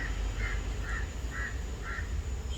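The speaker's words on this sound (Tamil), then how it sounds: "ஒரு காக்கா கற்றுது பாருங்க." A crow caws five times at an even, steady pace, each call short and harsh, heard from a moderate distance over constant outdoor background noise and a faint high whine.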